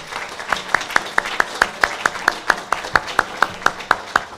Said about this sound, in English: Let's give our panel hearty applause.